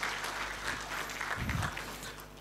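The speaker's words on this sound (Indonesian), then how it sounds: "Aplaus untuk BPR Nusamba Cipiring." Audience applause at a talk show honouring BPR Nusamba Cipiring: dense, continuous clapping that swells briefly mid-way over a low background rumble.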